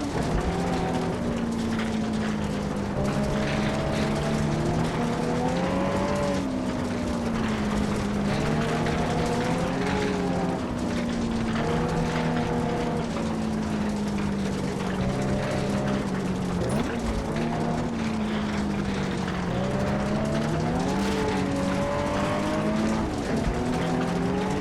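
Rally car driving a Finnish stage in a rally video game, a sustained engine drone rising and falling through gear changes and revs, loud and continuous for the whole stretch with no talk.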